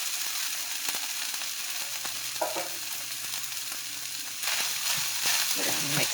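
Cooked rice fries in a pan and gets mixed in, giving a steady sizzle with intermittent scraping and clinks of the utensil. The frying swells louder toward the end, with a brief voice in the background.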